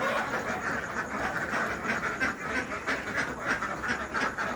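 A flock of egg-laying ducks quacks continuously in a rural farmyard, a busy overlapping chorus that stays fairly loud and steady, with no talk.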